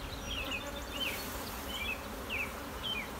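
Honey bees buzzing at an open hive during a honey pull, a steady dense hum with individual bees whining past close by at intervals, no talking.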